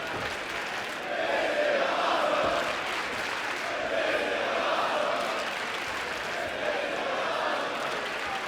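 A sold-out professional wrestling crowd in a Dallas arena roars continuously, a broad wash of cheering and chanting that swells and holds without a break, with no clear talk rising above it.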